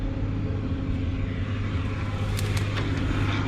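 An old loader engine rumbles steadily at a gravel plant, a loud, continuous low-pitched drone close by with no voices.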